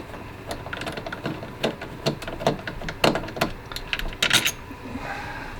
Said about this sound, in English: So I'm going to take these screws